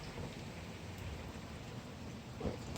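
Steady rain falls outdoors, a soft continuous hiss of drops on surfaces that stays even and fairly faint, with a slight rise at the end.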